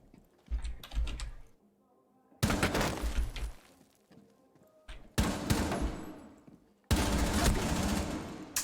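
Rapid bursts of automatic gunfire in Rainbow Six Siege, loud, close volleys separated by short quieter gaps, with a voice occasionally talking underneath.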